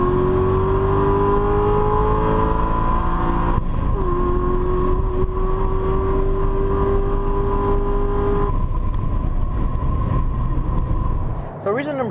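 A Corvette C6 Z06 V8 engine pulls hard under acceleration, a loud, steady drone rising gradually in pitch with a shift partway through, heard from inside the car alongside road noise, ending with a brief change near the close.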